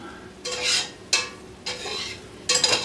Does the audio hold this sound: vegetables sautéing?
yes